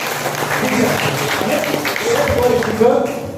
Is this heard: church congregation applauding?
yes